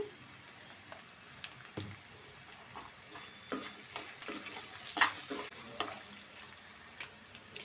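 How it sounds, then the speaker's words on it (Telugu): Onions frying in a pan for coconut rice are stirred with a spoon, giving quiet sizzling and scraping with occasional clinks. It builds a little busier toward the middle and then settles again. "ఇప్పుడు కలబెట్టుకుందాం బాగా గోల్డెన్ కలర్ రావాలి ఉల్లిపాయలు"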